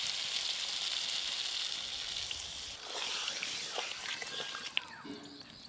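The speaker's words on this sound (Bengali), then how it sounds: "এবার ভেজে রাখা বড়াগুলো কষে রাখা মশলার উপরে দিয়ে দেব। এই দেখুন কি সুন্দর বড়ার গায়ে মশলাগুলো লেগে রয়েছে। এবার পরিমাণ মতো জল দেব।" Spiced masala sizzles steadily in a pan with fried fritters in it, a gentle, continuous crackle that shifts partway through as water goes in, followed by faint dribbling and one small knock.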